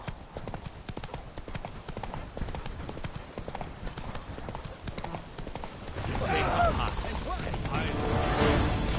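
Roach, a horse in The Witcher 3, clip-clops along with steady hoofbeats at a walking pace, joined by louder rustling movement toward the end.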